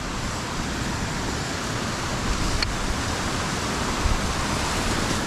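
A constant broadband rush of a fast, cold mountain stream nearby on the Manaslu Circuit trek in Nepal, steady and loud throughout with no voices.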